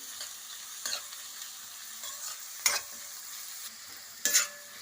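Onions frying in oil in a pan, a soft steady sizzle with a few sharp stirring clinks and scrapes rising above it, close by and fairly quiet.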